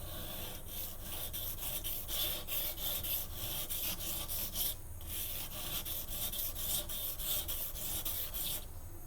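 A knife blade ground on a low-grit waterstone while converting a V edge to a convex one, steady rhythmic rubbing strokes with brief pauses, close and continuous, with no voices.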